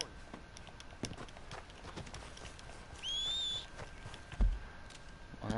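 Horse hooves in the Red Dead Redemption 2 video game fall as sparse, irregular soft thuds, joined midway by a short high whistle and a heavier thump near the end.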